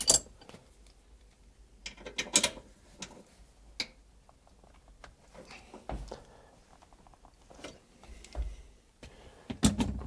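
Seat bolts being undone with a ratchet on a 2001 Honda Acty, close rapid ticking clicks in short runs between louder metallic knocks and clunks, with quiet pauses and no talking.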